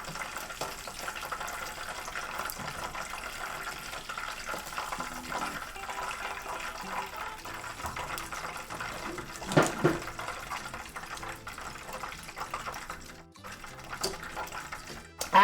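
Water bubbles and churns in a cooking water bath, a steady close gurgling wash with a brief louder surge near the end, and faint voices underneath.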